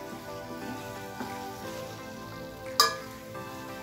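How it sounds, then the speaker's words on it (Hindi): Paneer being stirred into gravy in a pan on the stove gives a soft, close, steady sizzle and bubbling with light stirring. Near the end there is one sharp clink of a utensil against the pan. "ये पनीर अब हम इसमें डाल देते हैं ताकि जो हमारी ग्रेवी है ये अच्छे से एब्जॉर्ब कर ले। मिक्स करके और 2 से 3 मिनट हम इसे पकाएंगे इसी ग्रेवी में।"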